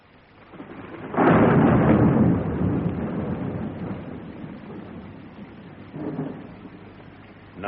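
Thunder rolls through a stormy night at a graveyard, a loud rumbling crack swelling after a second and slowly fading under steady rain, with a second, softer rumble following near the end.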